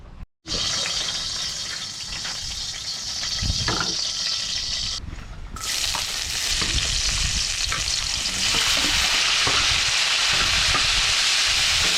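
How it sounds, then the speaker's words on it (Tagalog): Tomato and onion sautéing in a pan for a catch-and-cook meal with small shrimp, a steady close sizzle and frying hiss that runs almost without a break and grows louder toward the end, with no talk over it. "gisa yan gisa siyempre wala tayo ibang rekado ito lang kamatis at sibuyas"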